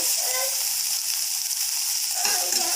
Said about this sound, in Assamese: চয়াবিনখিনি অকণমান ৰঙচুৱা হোৱালৈকে ফ্ৰাই কৰি ল'ম